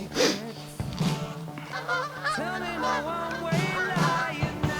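Geese circling overhead honk repeatedly in overlapping, nasal calls, fairly close and loud, with several birds calling at once throughout and no speech over them.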